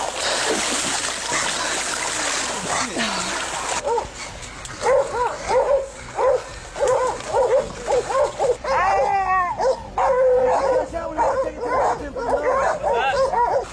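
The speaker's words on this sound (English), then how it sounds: "When the dogs detect a wild pig, they will typically signal their discovery by barking loudly" Hunting dogs bark and yip at a wild pig during a hunt, a pack of repeated loud barks in uneven bursts with some whimpering, close by and continuing throughout, with noisy rustling at the start.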